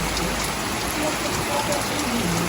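Heavy monsoon rain pours steadily outdoors, a dense, even hiss of drops on surfaces filling the whole stretch without pause, with no voices audible over it.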